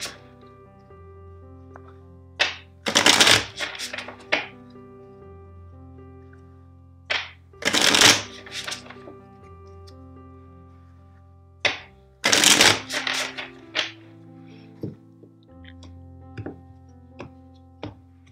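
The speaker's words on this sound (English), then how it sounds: "let's shuffle the deck four times for you." A deck of tarot cards is riffled in three quick bursts of crisp flapping, with softer taps and card handling between them, close and fairly quiet over soft sustained background music.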